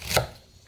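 A single crisp knife chop through chili pepper on a cutting board, close and short, followed by a brief quiet tail.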